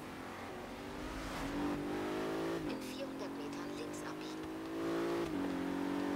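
A Koenigsegg Agera hypercar in the Forza Horizon 3 racing game revs and accelerates hard, its engine note climbing through gear shifts in a loud, continuous whine, with someone talking over it.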